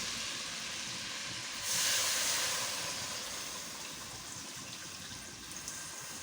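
Hiss of water poured into a pot of mutton korma that has been frying, a bright steamy burst rising then settling into a steady simmering sizzle, close up with no talk.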